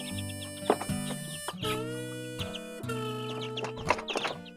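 Chickens cluck repeatedly at close range in a flock being fed, with bursts of clucking and a few louder squawks over a steady background hum.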